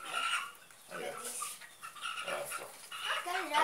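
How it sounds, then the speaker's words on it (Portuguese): Chickens and roosters on a farm where young chicks are being dewormed, giving scattered nearby clucks and squawks in uneven bursts over steady background noise. "Esses galos tudo aí, esses pintinhos de frango."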